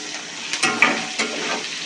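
Salted capsicum pieces fry in a pan for masala paneer, giving a steady close sizzle broken by a few louder scraping bursts as they are stirred.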